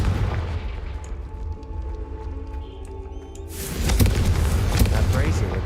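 A Confringo spell explosion in the Hogwarts Legacy video game bursts out after a few seconds of low rumbling ambience, a loud, broad blast that stays dense and roaring to the end, with a voice heard before it.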